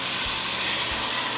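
Five strips of bacon crisping in a pan give off a steady, dense sizzling hiss that stays even and fairly close for the whole moment, with no voices over it.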